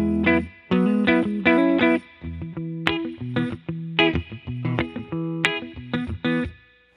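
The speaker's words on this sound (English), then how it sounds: "So this is just the reverb that I would normally use." Electric guitar chords and single notes through a Fender Hot Rod Deville 2x12 amp ring out with a lush reverb tail, played in short phrases with brief gaps between strums.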